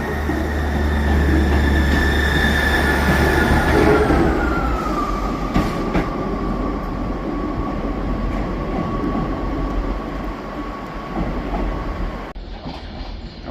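Passenger train 158753, a Carlisle to Leeds service via the Settle and Carlisle line, rumbles steadily and loudly nearby, its engine note falling in pitch as it passes, with a brief shift near the end.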